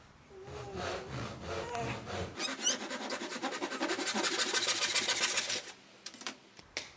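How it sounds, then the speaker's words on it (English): A hand saw cuts through timber on the scrap side of the line, a close, loud run of rapid rasping strokes that builds steadily and then stops, followed by a few light knocks. "Make sure you cut on the scrap side."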